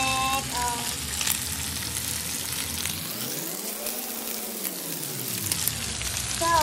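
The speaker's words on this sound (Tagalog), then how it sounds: "This is what we call stir fry. Stir fry pork." Pork stir-fries in a hot pan, a loud, steady sizzle and crackle of frying close up, with stirring and the scrape of a utensil against the pan, and no speech.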